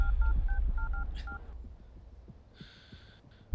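A rapid run of touch-tone keypad beeps dialing a phone number, crisp and evenly paced over a low rumbling background, followed by a brief higher electronic tone.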